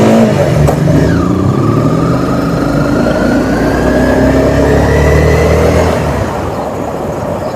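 Motorcycle engine running steadily and loud while riding along quiet village back roads, with a rising whine as it accelerates and a continuous drone throughout.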